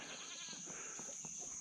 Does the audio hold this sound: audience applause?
no